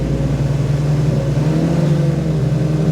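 A 1970s barn-find Austin A30, run for the first time in 52 years, pulls away in first gear with a steady, close, low engine drone that lifts slightly as it moves off.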